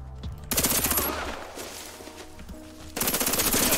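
Video game gun firing in two long automatic bursts, loud and close, with a short gap of quieter rumbling between them.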